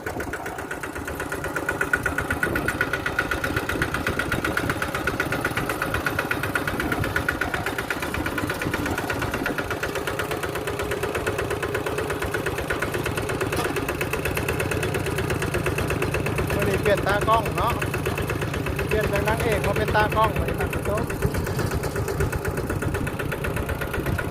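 A motorcycle engine runs steadily nearby at an even, rumbling pace, with someone talking over it in places.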